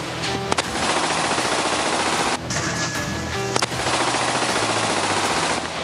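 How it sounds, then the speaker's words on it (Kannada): BSF troops fire machine guns at Pakistani Rangers' positions from the Samba sector on the India–Pakistan border: loud, sustained automatic bursts with brief gaps, no voices. "ಬಿಎಸ್ಎಫ್ ಯೋಧರು ಗುಂಡಿನ ಸುರಿಮಳೆಯನ್ನ ಸುರಿಸ್ತಾರೆ"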